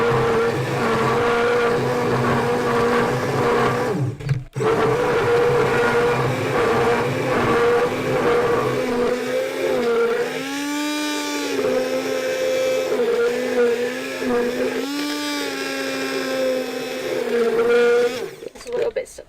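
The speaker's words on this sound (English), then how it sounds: "Our incredible high-tech stick blender. And we're just going to blend this first of all." A high-tech stick blender whirs through raw vegan ingredients in a steady, loud motor drone, its pitch sagging several times under load in the second half, with voices present at times.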